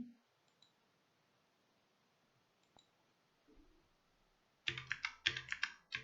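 Brief bursts of computer keyboard typing near the end, close and crisp, while registering an account. A few faint clicks come before in near silence.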